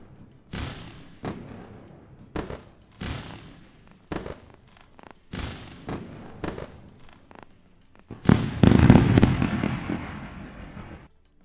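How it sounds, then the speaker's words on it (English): A series of sharp firework bangs, each trailing off in a crackling echo and spaced a second or so apart, then a denser, louder burst of crackling pops near the end. "Let's go with a round of fireworks."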